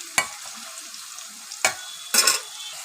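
Potatoes seasoned with turmeric and salt fry in hot oil, a soft steady sizzle broken by three scraping stirs of a spatula in the pan, close and alone with no voices.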